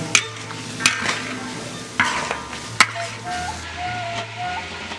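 Food sizzles steadily in a hot pan while a utensil scrapes and clanks against the metal every second or so as it is stirred.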